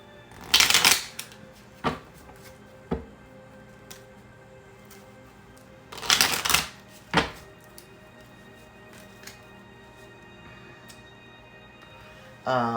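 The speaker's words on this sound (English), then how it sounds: "Let's just shuffle a little bit more for the Hangman." Tarot cards are shuffled in two loud riffling bursts, separated by softer taps and clicks of the deck being handled up close.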